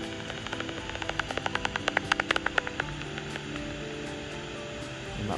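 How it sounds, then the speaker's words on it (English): Schreibers' bat echolocation through a bat detector in a Gibraltar cave setting, a quick run of about a dozen evenly spaced clicky pulses rising then fading over two seconds, against steady hiss and background noise. "so when one comes by you'll hear the sound of a Schreiber's bat"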